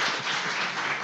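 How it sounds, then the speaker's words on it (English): Applause for the chefs at a cooking competition show, a dense, continuous wash of many hands clapping at once, steady and full for a brief moment. "Please give Chef Rob, Chef Colin, Noble Crust, big round of applause"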